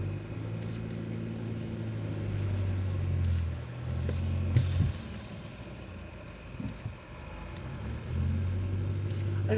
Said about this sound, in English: I got cars coming from both sides.